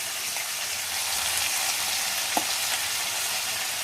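Chopped onions and garlic sizzling and sautéing in a hot pan for a gravy, a steady close crackle with an occasional stir or clink, no voices.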